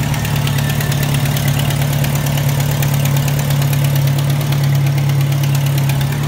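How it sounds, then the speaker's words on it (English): A car engine runs at a steady idle after an oil change, with a constant low hum and even vibration that stays close and loud throughout, with no speech. "So here we're going to start up the car."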